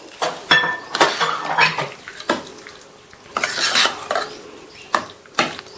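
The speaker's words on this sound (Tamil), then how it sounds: "தாளிப்பை நம்ம ரெடி பண்ணி வச்ச இந்த தயிர் அவலில் சேர்த்துட்டு நல்லா கலந்து விட்டுருங்க" Tempering being mixed into curd-soaked flattened rice (aval) in a metal vessel: a series of close, loud clinks and scrapes of a spoon against the dish, coming in irregular bursts with brief pauses between them and no talking.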